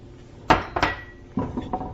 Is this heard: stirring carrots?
yes